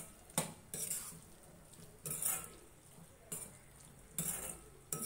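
A spoon scrapes and clinks around a pan of frying goat lung with black pepper and coriander, four or five distinct stirring strokes spaced a second or so apart over a soft steady sizzle, close and alone without voices.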